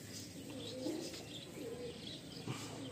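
A white pigeon coos softly in a loft, low throaty murmurs repeating under faint background rustle and distant chirps.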